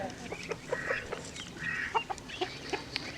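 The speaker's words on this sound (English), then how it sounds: "Here's another naked neck hen." A naked neck hen clucks in a series of short, irregular clucks and soft calls, fairly close, over a faint farmyard background.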